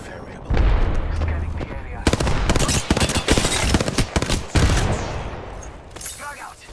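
Rapid automatic gunfire in Apex Legends, with dense loud bursts and cracking shots stacked close together for several seconds as a character's voice talks over the fight.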